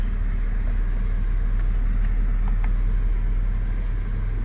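A 2009 Mercedes W221 S550 4matic with a noisy upper idler pulley runs steadily, giving a loud, constant low drone with faint light ticks on top and no talk.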